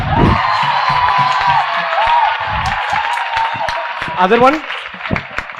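Students in a classroom clapping and cheering, a loud sustained crowd noise with whoops and claps beneath someone speaking, rising in a brief burst toward the end.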